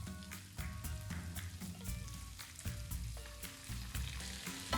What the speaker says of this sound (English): we're going to add the juice to the pan